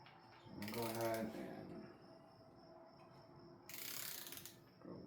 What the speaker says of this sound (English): Now we're torquing this one down.